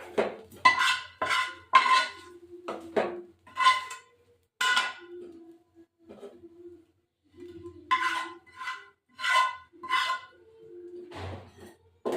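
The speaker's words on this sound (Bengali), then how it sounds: "এবার আমি এটা বসিয়ে দিলাম প্যানটা।" A pan set on a kitchen stove during home cooking, a close series of sharp metallic clanks and rattles in uneven bursts separated by short quiet gaps.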